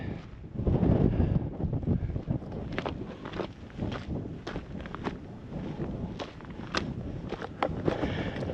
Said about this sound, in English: Windy, but that's okay.